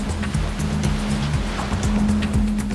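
A wave machine drives waves through a large test tank that can reach about 5 feet high, producing a steady, loud churning wash over a low mechanical hum with pulsing surges throughout.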